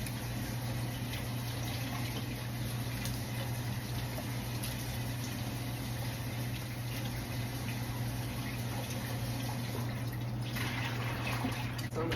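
Tap water runs steadily from a kitchen faucet as meat is rinsed in a home kitchen, a continuous close splashing wash with a low hum underneath and no one talking.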